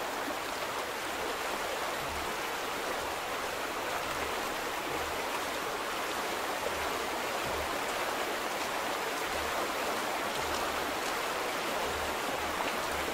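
Turbulent stream water in the game The Vanishing of Ethan Carter rushes steadily throughout, a constant broadband wash with a low rumble and no voices.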